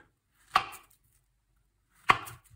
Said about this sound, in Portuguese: Duas bananas. Cortar mais ou menos em três dedos de comprimento.